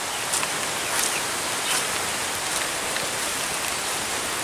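Steady rain falls on an outdoor animal pen area, a dense even hiss of drops running without a break at moderate level, with a few louder patters standing out and no voices.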